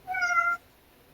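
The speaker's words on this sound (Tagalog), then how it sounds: "tingnan niyo yung pusa na yan" A house cat gives a single clear, close meow lasting about half a second, followed by quiet.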